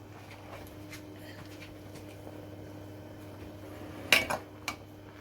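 Metal utensils scrape and clink against a pot while masala biryani is served out of it, mostly quiet with a faint hum, then a sharp clatter near the end followed by a couple of smaller knocks.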